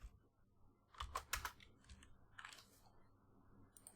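Python code typed on a computer keyboard, a few quick clusters of soft key clicks with pauses between them, close and quiet in a still room.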